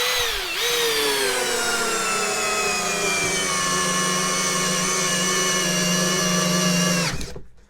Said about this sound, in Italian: Quindi sempre Parkside Performance, ma in questo caso avvitatore da 60 Nm. Vediamo se riesce a lavorare con velocità 1,